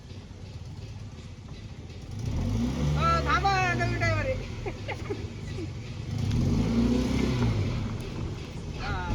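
A car engine revs and surges in uneven bursts as a new driver takes the wheel, with people talking loudly over the motor throughout.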